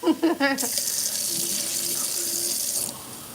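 A child playing with a running tap, the faucet pouring steadily into a sink with a loud, continuous hiss after a few brief splashes and clicks at the start, then stopping near the end.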